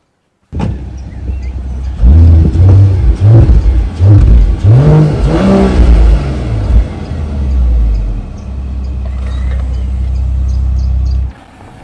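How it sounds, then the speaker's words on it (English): A 2026 Mercedes-AMG CLE 53 Coupe pulls away and accelerates through several gear changes, its engine note rising and dropping in repeated sweeps, loud and close, before settling into a steady cruising drone. "let's take the CLE 53 Coupe for a drive."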